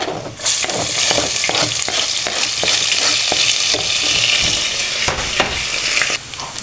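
Onion and garlic fry in oil in a pan, a steady close sizzle with repeated scraping stirs throughout, no voices.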